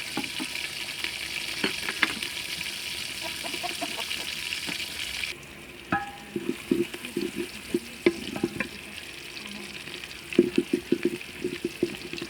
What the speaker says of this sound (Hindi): प्याज का रंग सुनहरा होने तक इनको पकाएंगे।